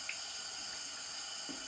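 Tepid water running from a tap over a wig to wet it down, a steady faint hiss of flowing water with no voices.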